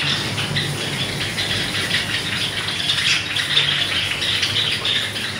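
Java sparrow breeding pairs calling together in an aviary, a dense, continuous chorus of high squeaky chirps and twitters with a steady broadband hiss, close and fairly loud, no talking.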